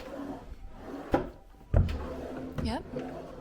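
Hotel room drawers at Disney's Grand Floridian Resort, opened and closed with two sharp wooden knocks about half a second apart under steady talking.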